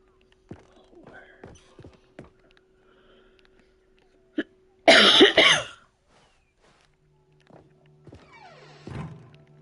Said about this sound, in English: Bet you totally missed that coughing sound.